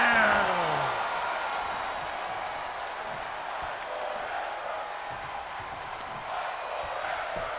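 A crowd roars and applauds in a wrestling video game, a broad sustained wash of cheering that swells at the start, then holds steady and fairly loud throughout.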